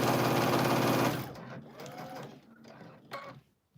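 Sewing machine stitching a quarter-inch seam around the edge of a quilted fabric placemat: a loud, steady, close mechanical whir that runs about a second and then stops, followed by quieter handling and fabric rustles.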